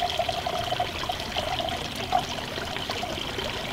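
Water pours and trickles steadily through a filter, a continuous close splashing stream with no voices.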